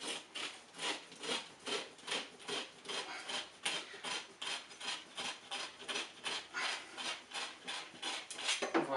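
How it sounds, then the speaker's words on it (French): A copper plumbing tube is scoured on the inside with rhythmic, close rasping strokes, about two per second, steady and fairly loud throughout. "Là, ici, je vais venir nettoyer un peu l'intérieur."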